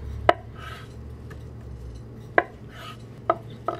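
Peeled hard-boiled eggs coarsely chopped with a truffle knife: four sharp, isolated knife strikes on a board, unevenly spaced, quiet and close, with no talking.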